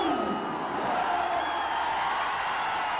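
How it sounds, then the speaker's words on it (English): Large partisan crowd at a cricket match in Chennai, a steady dense roar of cheering and whooping that holds loud and unbroken throughout. "Very partisan crowd here."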